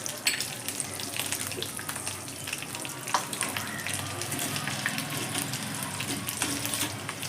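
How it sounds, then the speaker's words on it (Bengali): Mustard seeds spluttering in hot oil left from frying chicken, a steady dense crackle and sizzle with scattered sharp pops, close and continuous throughout. "এবার আমি ওই তেলেই দিয়ে দিচ্ছি সর্ষে ফোড়ন।"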